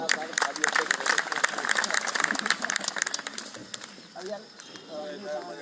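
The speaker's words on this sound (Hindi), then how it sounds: "और आपकी तालियां उनके सम्मान में।" Applause from a crowd at an outdoor poetry gathering (kavi sammelan) at the Matangeshwar Mahashivratri fair, a dense patter of claps that thins toward the end as the sound grows sparser.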